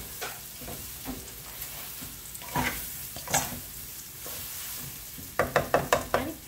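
Spices and vegetables for a vegetable khichuri sizzle in a pan while a spatula stirs and scrapes, with intermittent scraping strokes and a quick run of sharp clanks near the end, close and clear with no talk.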